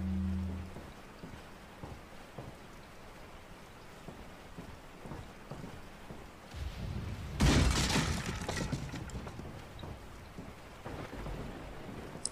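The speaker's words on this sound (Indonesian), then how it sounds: "Nampaknya keadaan di luar hujan." Rain falls outside in Resident Evil 4 HD, a steady hiss with soft thunder-like rumbles and a loud burst of downpour or crash midway, no talking.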